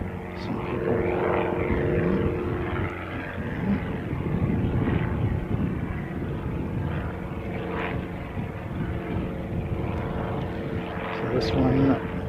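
A propeller aircraft arriving from Hamilton drones steadily at a moderate distance, a continuous low engine hum with a slight swell near the end, while people talk over it.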